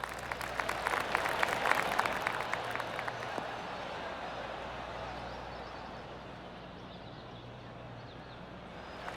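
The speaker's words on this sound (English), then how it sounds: "I can hear the golf claps around the course" Scattered golf gallery clapping from spectators around the course in the PGA Tour 2K25 video game, a brief burst of applause in the first few seconds that fades into a steady ambient crowd murmur.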